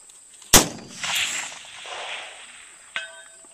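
A precision rifle shot fired at a steel target at long range, one sharp loud crack with a rolling echo, followed a few seconds later by a fainter metallic ping from the distant steel.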